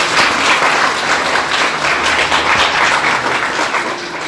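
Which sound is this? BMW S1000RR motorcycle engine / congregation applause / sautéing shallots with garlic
congregation applause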